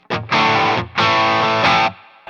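Squier Paranormal Cabronita Telecaster thinline electric guitar played through distortion, loud chords in three sustained bursts with brief gaps, ending on a short hit.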